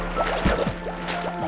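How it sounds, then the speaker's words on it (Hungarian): Water bubbles in a Minecraft water elevator built over soul sand: a soft, continuous stream of gurgling pops with a brief splash near the end and no voices. "elkezd bugyogni a víz"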